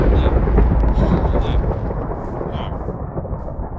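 Thunder rolls close and heavy after a lightning strike near a villager and a lightning rod in Minecraft, a loud low rumble that slowly fades over a few seconds.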